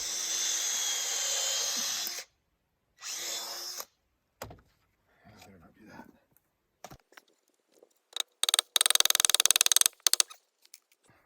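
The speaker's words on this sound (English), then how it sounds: "So I drill a hole" Short bursts of power drilling into a barbed wire fence post, with a long first run, a briefer second one, then scattered knocks and a final rattling spell of drilling, all close by and fairly faint.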